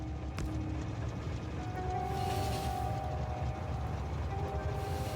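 A train rolls along inside the video game Factorio, a steady mechanical rumble and whir with faint tonal hums rising over it, continuous and fairly close throughout.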